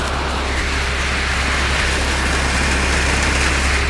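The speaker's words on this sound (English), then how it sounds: "It's raining really hard." Heavy rain drums steadily on a metal roof of a farm barn, a dense, continuous roar close overhead with no break and no voices.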